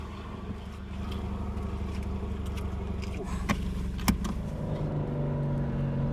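Cheap sports car with a 1.8 liter engine driving, a steady thrashy engine drone running continuously at close range, with a couple of brief clicks or clunks partway through.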